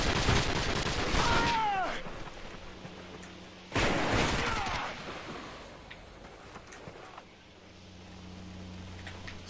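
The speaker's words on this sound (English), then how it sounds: "There's too much gunfire over there. I can't handle all the gunfire." Call of Duty: Modern Warfare III gunfire comes as two loud, close volleys of rapid shots a couple of seconds apart, followed by quieter, scattered shooting farther off.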